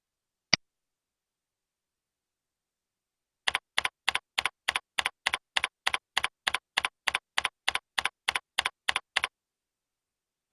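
Typing on a computer keyboard while setting up a Eudora email account: one isolated keystroke, a pause, then a quick even run of about twenty crisp close key taps.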